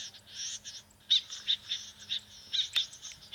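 A bird calls near a rice field set up for net trapping, a series of short bright chirps in irregular bursts that repeat over several seconds, fairly close and with no talking.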